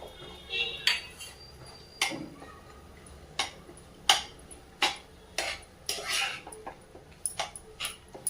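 A metal spoon clinks and scrapes against a pan while dry fruits are sautéed for potato sheera, giving irregular sharp taps and scrapes with quiet gaps between them.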